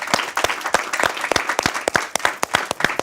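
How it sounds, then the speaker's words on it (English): Applause from an audience at a soundtrack listening party, a close, dense patter of many hands clapping steadily for about three seconds with no voices over it. "Once again, a round of applause,"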